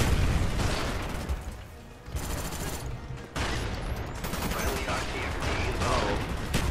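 MP5 gunfire in Black Ops 1 PC multiplayer, rapid bursts of shots crackling in clusters with a brief lull midway, loud and close over faint game noise.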